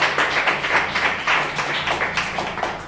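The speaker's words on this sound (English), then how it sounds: "round of applause, please" Audience applause at a design feedback session, a steady patter of many hands clapping at close range for a few seconds with no talking.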